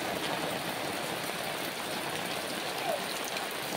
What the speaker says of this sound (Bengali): কি বৃষ্টি, কি বৃষ্টি।